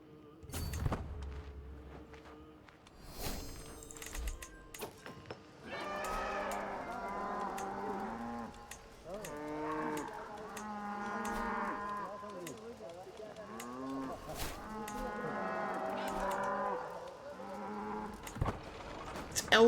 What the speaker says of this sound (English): Elephants and cows going crazy.